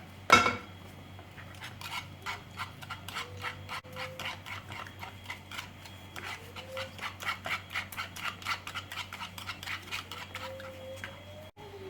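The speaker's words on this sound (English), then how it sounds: "Stir it all together well." Rapid, rhythmic clinking of a utensil against a bowl while stirring an omelette mix of eggs, milk and black pepper, steady close ticks running throughout after an initial knock, with faint squeaks in between.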